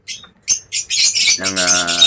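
African birds kept in the Philippines squawk and chirp in short bursts, then a busier cluster of calls overlaps them, all close and fairly loud with no speech.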